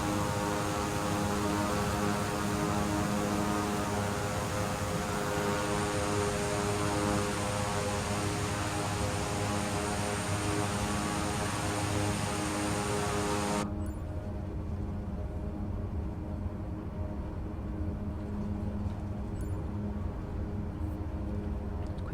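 A King Air 350i turboprop taxis at idle in Microsoft Flight Simulator, giving a steady droning hum with a buzzing tonal edge that abruptly turns muffled and duller partway through, then continues evenly.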